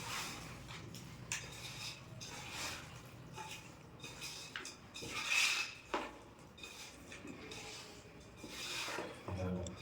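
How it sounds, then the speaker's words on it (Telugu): Chicken pieces tossed and mixed with spices in a bowl for chicken curry, giving soft wet squishing and repeated clinks and scrapes of a utensil against the bowl, fairly quiet and close. "బాగా మిక్స్ చేసుకొని ముక్కలు పట్టే విధంగా మంచిగా మిక్స్ చేసుకోవాలి."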